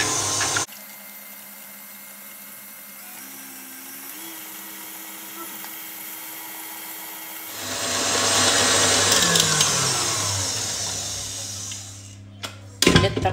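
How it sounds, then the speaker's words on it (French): An electric mixer beats creamed butter and sugar as eggs are added for a black forest style cake. Its steady motor whine turns louder and rougher partway through, then cuts off with a short clatter. "On va ajouter les œufs tout en continuant à fouetter."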